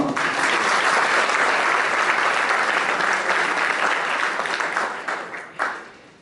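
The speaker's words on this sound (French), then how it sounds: "Je demande à cet égard des applaudissements." A room full of people applauds steadily at a press ceremony presenting the book "Les Falots" by Amadou Seck N'diay, a dense, close wash of clapping that fades with a few last claps near the end.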